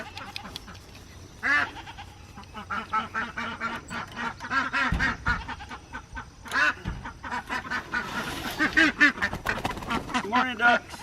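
Ducks on a homestead quack repeatedly during morning feeding, mixed with goat-like bleats and other farm animal calls at close range, the calls dense and overlapping throughout.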